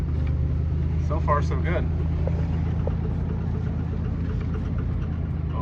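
A 1969 Chevrolet Camaro, abandoned in a back yard for 18 years and running on bad tires, drives under its own power with a steady, droning engine note that shifts into second gear, while people talk over it.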